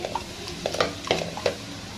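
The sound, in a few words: cumin seeds sizzling in hot oil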